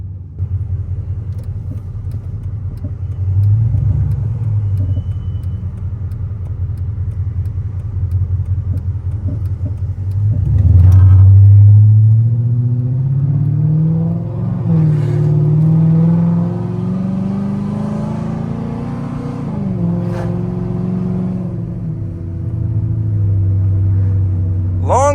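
A modified Chrysler 300C 5.7 with long-tube headers accelerates through the gears from inside the cabin, a deep rumbling exhaust rising in pitch with each pull and dropping between shifts, loud and continuous with no talk.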